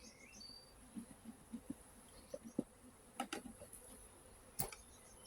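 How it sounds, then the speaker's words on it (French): Soft, intermittent buzzing of honeybees flying close by into a hive, short humming bursts coming and going against a quiet background. "il y a un débit d'abeilles qui arrive"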